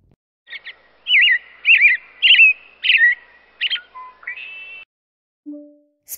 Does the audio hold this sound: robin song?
yes